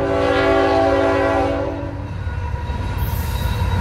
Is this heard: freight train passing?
yes